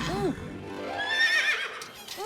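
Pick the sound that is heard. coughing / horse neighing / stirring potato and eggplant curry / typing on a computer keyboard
horse neighing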